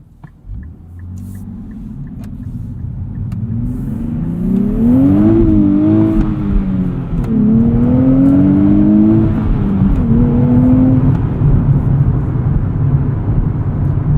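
A 2023 Nissan Z's engine revs while being driven, a deep droning rumble rising and falling in pitch through several climbing sweeps and shifts, loud and close from the cabin with steady road noise underneath and no talking.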